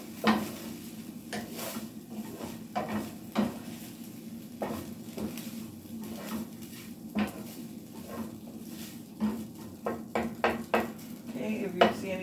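Egg fried rice being mixed in a pan on the stove, a spoon or spatula scraping and clanking against the pan at irregular intervals over a soft background sizzle, close and moderately quiet.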